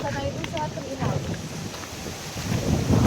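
Wind buffets the microphone outdoors in cold weather near a treehouse, a continuous low rumbling roar with gusts that swell toward the end, while voices talk faintly underneath.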